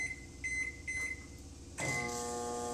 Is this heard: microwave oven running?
yes